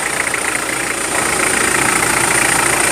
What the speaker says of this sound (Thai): ดูเครื่องก่อน คันนี้สตาร์ด้า เครื่องยนต์สองพันห้า